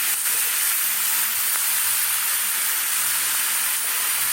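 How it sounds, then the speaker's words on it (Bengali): Vegetables frying in a pan for a vegetarian dish, a steady loud close sizzle and hiss running unbroken throughout, with no voices. "সুন্দর করে ভাজতে হবে"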